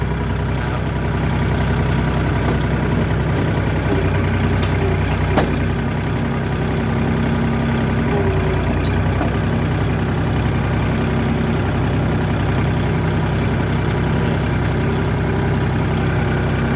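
A tractor engine runs at a steady idle close by, a continuous low rumbling drone with faint clicks and no talking.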